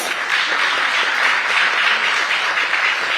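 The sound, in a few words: applause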